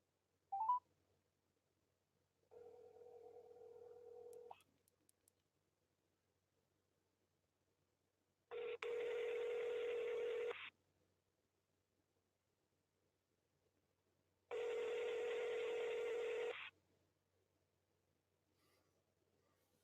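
Phone tones from a call being dialed: one short beep, then a quieter tone, then two long loud ringback-style tones separated by silence, clear and close with no talking.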